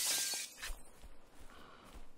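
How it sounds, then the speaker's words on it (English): Glass smashed in the Dead Island zombie video game: a sharp shattering burst at the start followed by a second crash and scattered tinkling fragments and thuds, fairly close and alone without talk. "You can just smash through the glass and pick stuff up."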